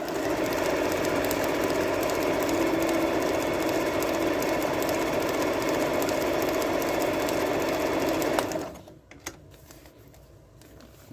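A Janome 6000 sewing machine runs steadily while stitching embroidery designs, a dense, even mechanical whir with rapid needle ticking that holds for about eight seconds and then stops abruptly, leaving quiet room noise.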